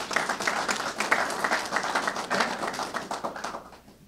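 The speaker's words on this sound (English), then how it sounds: "So give yourselves a round of applause for seeing that we got that done." A round of applause fills a gathering held for a highway renamed in memory of Vietnam veterans, with many hands clapping steadily at moderate distance before tapering off near the end.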